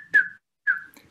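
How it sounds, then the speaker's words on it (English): A person gives two short, clear whistles with a brief pause between them, close and alone. "And we have to make also whistle."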